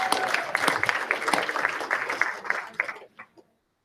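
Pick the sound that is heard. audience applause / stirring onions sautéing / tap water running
audience applause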